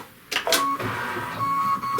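A sewing machine stitches leather for a Father's Day wallet along a placement line, giving a short close mechanical whirring run with clicks at its start and a steady motor tone.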